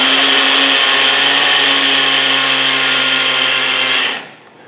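A blender whirs loudly and steadily while mixing a pineapple, coconut, banana protein shake, its motor hum holding constant before cutting off near the end.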